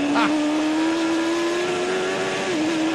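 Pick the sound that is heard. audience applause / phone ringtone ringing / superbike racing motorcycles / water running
superbike racing motorcycles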